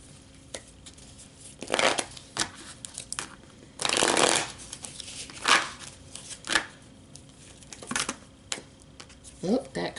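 Tarot cards being shuffled by hand during a reading, giving soft riffling and snapping bursts close to the microphone, with one longer shuffle midway and scattered taps around it.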